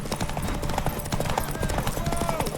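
A horse's hooves clop in a quick, steady rhythm while galloping in the video game Witcher 3, a fairly faint, continuous beat heard under background game sound.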